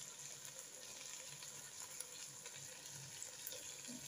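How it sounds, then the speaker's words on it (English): Water is poured into a cooking pot of chicken pilau holding potatoes and tomatoes. A quiet, steady sizzling hiss runs throughout. "add a little water"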